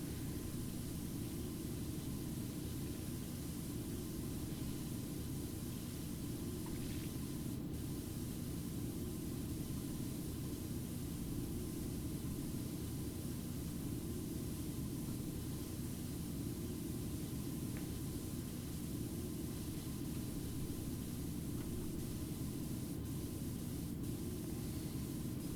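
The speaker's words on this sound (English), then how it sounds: "just spraying power washing directly into a last cannon barrel" Steady, loud broadband hiss of a virtual pressure washer spraying water into a lascannon barrel in Warhammer 40k PowerWash Simulator, continuous and unbroken throughout with no talk.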